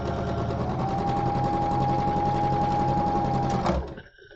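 A sewing machine runs a steady zigzag stitch across the seam allowance of a summer tunic, loud and close, buzzing continuously for almost four seconds before stopping abruptly.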